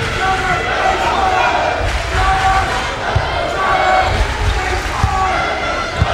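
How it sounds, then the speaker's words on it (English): Sterling home crowd roaring at a 2006 high school basketball game against Haddonfield in a packed gym, a loud, continuous wall of cheering with a commentator talking over it and sneakers squeaking on the court. "You can hear the Sterling crowd going crazy in the background."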